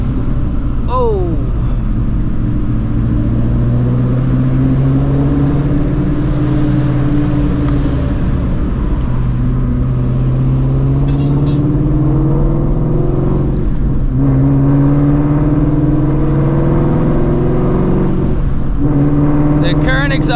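An 800 hp Shelby GT350 Mustang with Stainless Works catless long-tube headers, a Ford Performance X-pipe and Ford X Borla exhaust revs loudly and steadily up and down, its deep engine note rising and falling, with voices underneath.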